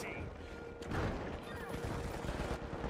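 Turret gunfire in The Finals video game, a steady dense stream of rapid shots running the whole time alongside other game noise, loud and close, with no clear talk over it.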